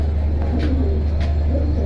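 A large silver pigeon at a pigeon sale gives soft, low cooing calls over a constant low mechanical hum, the coos rising and falling gently and close by.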